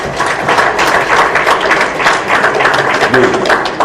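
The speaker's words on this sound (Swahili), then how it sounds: "mpigieni makofi mengi sana" An audience at a public gathering bursts into loud, sustained applause, dense clapping filling the space evenly from start to finish.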